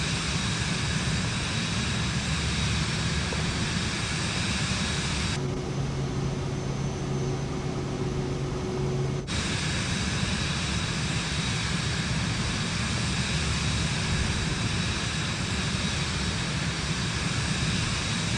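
Airplane engine droning steadily in flight in Microsoft Flight Simulator 2024 on PS5, climbing into clouds; a continuous broadband hum with a tonal, muffled shift in the middle stretch, no speech.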